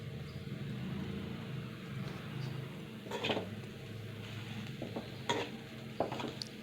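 Crushed garlic cloves dropped into a frying coconut curry in a pan, giving a steady low sizzle with a few sharp clinks and scrapes of a spoon against the pan, close and without talk.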